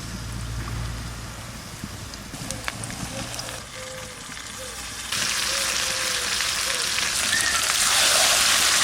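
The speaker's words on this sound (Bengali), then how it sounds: "পেঁয়াজ, কুচি পেঁয়াজ, মাখানো মাংসটা দিয়ে দিচ্ছি।" Marinated chicken and chopped onion go into hot oil with a bay leaf, and the soft sizzle jumps to a loud, dense crackling frying hiss partway through, with occasional stirring scrapes.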